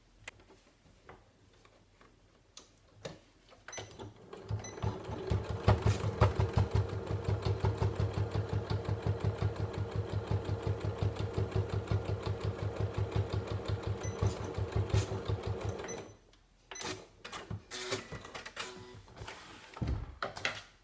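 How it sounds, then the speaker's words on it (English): A sewing machine stitches a fabric card holder with elastic. A fast, even mechanical whir runs for about eleven seconds, close by, bracketed by quieter handling noises and a short burst of stitching near the end. "I'm now just going to sew up this open end."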